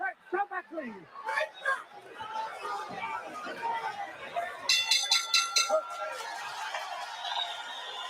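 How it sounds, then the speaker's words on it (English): A round-end bell rings at a televised boxing match between Pryor and Arguello, a quick burst of several bright clangs partway through, heard under excited commentary and crowd chatter. "We're heading for the bell."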